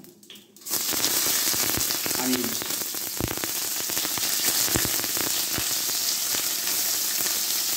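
Onions and whole spices sizzle and spit steadily in hot oil, a loud, continuous frying hiss with scattered pops that starts abruptly and holds throughout.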